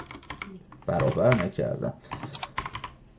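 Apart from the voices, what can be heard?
typing on a computer keyboard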